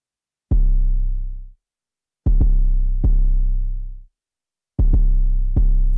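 Four deep 808 bass notes saturated with Fruity Wave Shaper boom out one after another, each a loud, punchy hit with a gritty, harmonic-rich body that rings and then cuts off, with short silences between.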